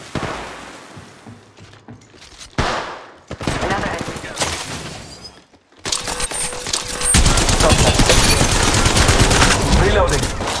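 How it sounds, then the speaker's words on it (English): Weapon fire in the mobile battle royale game Apex Legends Mobile starts as scattered shots, then grows into dense, continuous automatic bursts at close range, with game voice lines underneath. "I'm taking fire. Opening fire."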